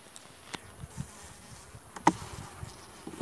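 Honeybees from a weak colony buzz faintly around an open beehive, a soft, airy hum with a few brief louder passes of single bees flying close by.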